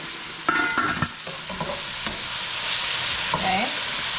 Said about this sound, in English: I was cooking some bora and shrimp.